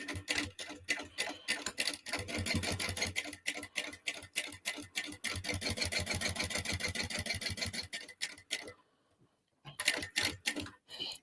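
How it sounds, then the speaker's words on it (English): A sewing machine stitches a crossbody bag, backstitching at the start and end of a seam, in fast rhythmic runs of mechanical clatter with a brief pause before stitching resumes, close and clear with no talk. "I always backstitch at the top, like as I start and as I finish, just for sort of like extra reinforcement"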